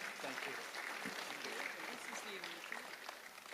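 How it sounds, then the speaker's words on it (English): Audience applause at the 2018 Samoana Jazz & Arts Festival, a dense, steady wash of clapping with voices talking over it, heard from within the crowd. "How about a nice round of applause once again?"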